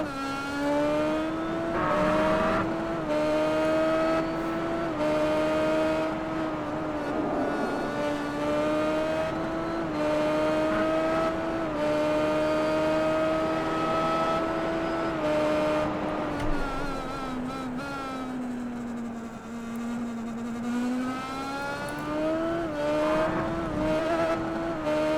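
Indy race cars circulate at Mid-Ohio in a classic series race, a loud, sustained engine howl rising and falling with gear changes and corners, steady and close with no talk over it.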